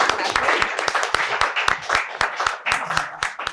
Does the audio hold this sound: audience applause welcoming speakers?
yes